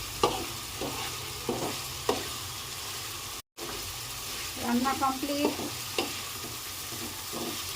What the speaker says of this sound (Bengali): একদম ভাজা ভাজা হয়ে গেছে, তেল উঠে আসছে।